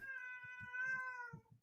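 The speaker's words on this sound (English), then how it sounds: "Also, sorry about my cat." A pet cat meows in one long, drawn-out, tonal cry close to the mic, with a few soft low bumps of handling or movement underneath.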